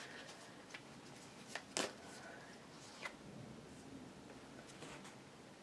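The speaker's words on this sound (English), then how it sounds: "And then I'm also picking one of these oracle cards." Oracle cards are picked and handled at close range, giving a few soft, papery rustles and one sharper flick in an otherwise quiet room.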